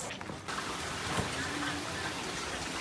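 Steady rain falls in Suzhou, China, a continuous even hiss of drops on surfaces that carries through the whole stretch without breaks.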